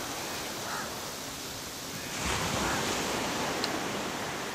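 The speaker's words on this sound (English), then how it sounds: "Now it is the beach. It looks very awesome and beautiful." Gentle surf washes onto a palm-fringed beach at Uppuveli in Sri Lanka, a soft, distant hiss of waves with one fuller swell rolling in midway, mixed with light wind.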